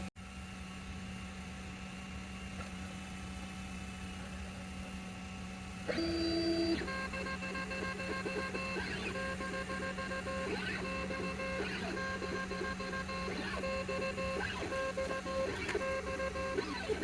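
A 3D printer runs a print inside a closed enclosure, a steady low hum broken by rising and falling stepper motor whines in repeated short patterns, moderately quiet and with no talking.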